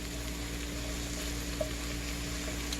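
Rice sizzles and fries steadily in a hot wok as it caramelizes. The crackling hiss is constant and moderately loud, with one brief tap near the middle and no voices.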